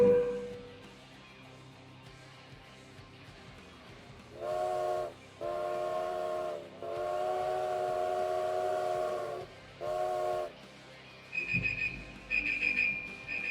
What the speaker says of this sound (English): But you know, you want a train whistle, you'll get one.